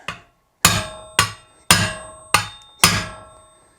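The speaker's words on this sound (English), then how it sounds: "take your drift, slide it in the notch, give it a few whacks" A hammer strikes a drift five times to knock out a motorcycle wheel bearing, each sharp metallic clank ringing briefly in a steady rhythm, close and loud.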